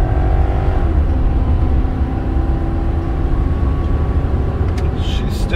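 A 2005 Nissan Armada SUV accelerating hard up an uphill freeway on-ramp, a loud engine roar climbing and shifting pitch with road noise, heard from inside the cabin.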